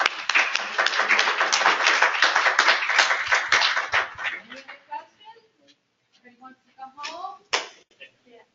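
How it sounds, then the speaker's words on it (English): A round of applause for presenters at a training session for site remediation professionals, dense steady clapping for about four seconds that thins out and fades, followed by scattered sounds. "I think we should give them a round of applause"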